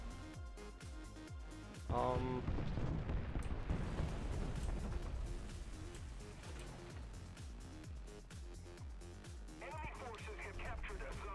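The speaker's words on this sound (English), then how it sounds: "Where are these shots coming from?" Gunfire and shots in the War Thunder tank game, with a sudden heavy blast around two seconds in followed by sustained rumbling battle noise, rhythmic thuds and cracks, and a voice talking over it.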